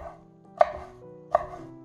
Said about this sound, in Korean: 맛있게 익은 배추김치 180g도 비슷하게 썹니다